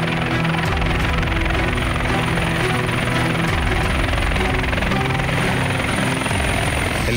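An Indonesian Air Force Caracal helicopter during an evacuation flight in Papua, its loud, steady rotor thump and turbine whine filling the scene continuously at close range.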